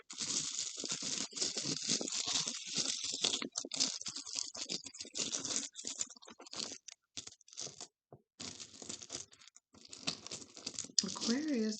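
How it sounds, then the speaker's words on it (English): Tarot cards are shuffled in quick papery riffles and flicks, close and fairly quiet, with brief pauses between bursts. "I really didn't shuffle your cards that much"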